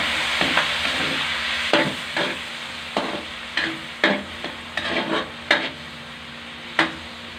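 Taro runners and roots cook in a pan with soy sauce for adobo, with a spoon scraping and stirring in irregular bursts over a low, steady sizzle. No one speaks.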